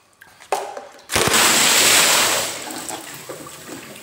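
A bucket of water is poured out in one sudden, loud, splashing gush that holds steady for about a second and then tapers into trickling, after a couple of sharp knocks.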